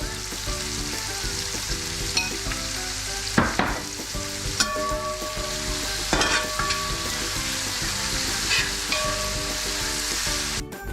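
Onions and spices frying for a Kerala-style chicken-veg kurma, a close continuous sizzle with periodic scrapes and clinks of a spoon stirring the pan, under a steady background hum, no talking.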